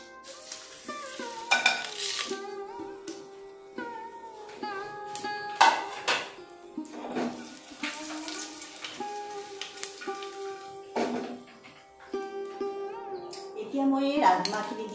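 Whole spices sizzle and fry in a pan for rajma masala, with a spoon stirring and clinking against the metal, steady frying hiss under intermittent scrapes and taps.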